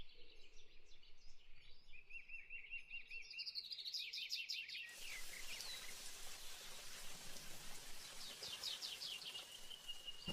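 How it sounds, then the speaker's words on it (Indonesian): Birds chirp and tweet in quick repeated bursts outdoors. About halfway through, steady rain abruptly starts falling, a soft, even hiss that continues beneath the birdsong, all fairly faint. "Ini kan hujannya malah makin awet nih, takutnya malah sampai nanti malam."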